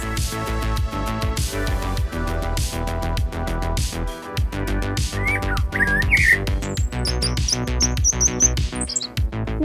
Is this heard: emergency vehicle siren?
no